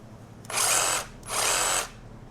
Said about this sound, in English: sounds like a jigsaw. Go figure.